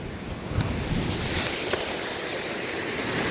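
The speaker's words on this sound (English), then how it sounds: "surfable waves going underneath the neighbor's house" Ocean waves on Dauphin Island run under a beach house as a steady, broadband wash of surf mixed with wind noise, continuous and fairly loud, with no talk.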